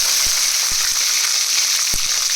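Onions frying in a pan for Bisi Bisi Vangi bath, a steady loud sizzle throughout with a few soft low knocks from the pan.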